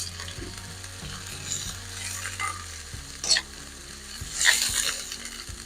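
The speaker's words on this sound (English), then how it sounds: "that sizzle and the smell of the onions is delicious" Onions and two chilies frying in a pan give a soft, ongoing sizzle, with stirring clatter and a couple of sharper scraping bursts near the end.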